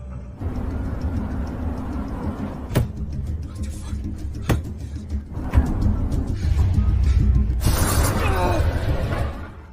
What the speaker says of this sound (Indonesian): Anna yang menyadari ia pun terpaksa harus menghancurkan kaca mobilnya David.